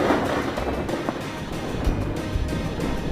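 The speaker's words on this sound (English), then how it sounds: "Lightning danced across the sky, and thunder rolled." A long, low rumble of rolling thunder fills the whole stretch as a steady, loud roar with a few deeper swells, heard alone without any voice.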